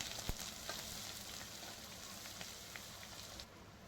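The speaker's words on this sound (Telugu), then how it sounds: "జీలకర్ర ఆవాలు ఎండుమిర్చి కరివేపాకు వేసి ఫ్రై చేయాలి" Cumin, mustard seeds, dry chillies, curry leaves and urad dal sizzle in hot oil as a tempering for a leafy-greens dal, giving a steady close crackle with scattered sharp pops throughout.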